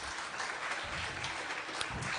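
A church congregation at a Unitarian Universalist service applauds speaker Jeff, a steady broadband wash of clapping that holds evenly for a couple of seconds at moderate, slightly distant level.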